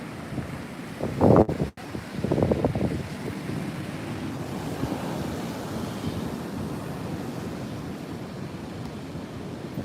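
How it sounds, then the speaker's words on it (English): Ocean waves surge and crash against the Flagler Beach Pier during Hurricane Dorian in a couple of rough bursts, then settle into a steady roar under buffeting wind on the microphone. "this is a good shot of the waves crashing on the pier."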